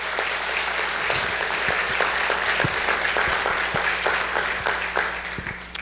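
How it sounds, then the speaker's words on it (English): Congregation applauding a youth group back from a trip to Romania during a church service, steady sustained clapping from a crowd with distinct individual claps standing out near the listener. "Can everybody please clap for these guys?"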